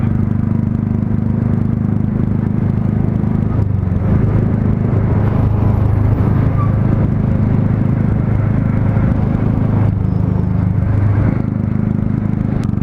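Motorbike ridden along a road near Belapur on a group ride, a steady loud engine drone with heavy wind rumble running throughout, no breaks.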